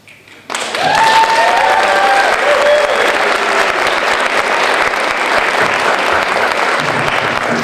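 A high school poetry slam audience bursts into loud applause and cheering after a poem, starting suddenly and holding as a dense, sustained roar of clapping from a large crowd.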